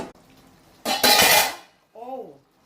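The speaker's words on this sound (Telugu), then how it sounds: "అలా తిప్పుకుందాం, అంతే, కదిలించకూడదు" A spoon stirs fish curry in a pot, one brief loud scraping swirl against the metal, close up, followed by a short voice.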